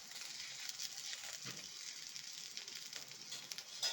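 Okra fries in a pan with salt and spices, a faint, steady hiss of sizzling oil running throughout with a few slight crackles, quiet and close.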